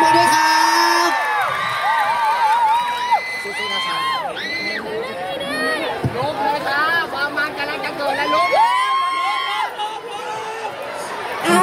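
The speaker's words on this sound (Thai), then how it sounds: "ขอเสียงปรบมือด้วยครับ" Crowd at a Kasetsart University arts event cheers for the band taking the stage, a lively mix of whoops, high shouts and excited chatter, close and loud throughout.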